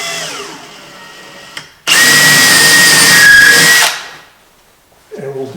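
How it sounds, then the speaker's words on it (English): An electric drill whirs loudly up close for about two seconds boring a blind hole for undermount drawer slides, then winds down, with quieter tool clatter before and after. "come around and drill a little blind hole in it"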